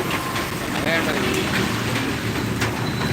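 Steady heavy rain falls in Kottarakkara, a thick continuous wash of noise close by, with a faint tonal sound briefly rising through it.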